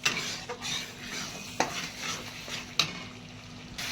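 Katla fish kalia frying in a pan while it is stirred: a low, continuous sizzle is punctuated by a few sharp knocks and scrapes of a utensil against the pan, with no voices.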